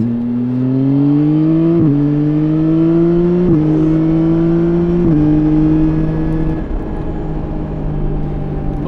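A motorcycle engine pulls hard through several quick upshifts, each gear change marked by a sharp pitch drop and no break in power.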